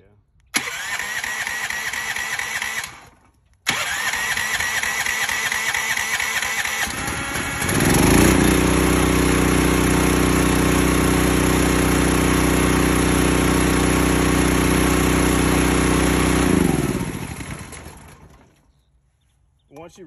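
A Honda GX390 or Predator 420 small gas engine pulls over briefly, cuts out, then starts and runs. It gets louder as it revs up, settles into a steady close-up run for about ten seconds, and winds down near the end.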